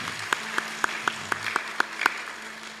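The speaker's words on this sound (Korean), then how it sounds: "격려의 박수 한번 주겠습니다" A church congregation claps a handful of times, about eight distinct, evenly spaced claps heard fairly close, standing out over a quiet room hum.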